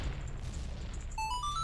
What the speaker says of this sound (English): Walk away from the explosion.